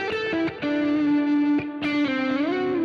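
An electric guitar run through the left side of a Gearbox effects unit, playing a few sustained, slightly distorted notes with bends and pitch slides, clear and up close.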